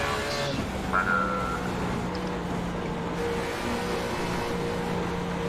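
Race car engine in the iRacing sim at Rockingham holds a steady, continuous drone at moderate level for the whole stretch, with a brief rise near the start and faint background talk.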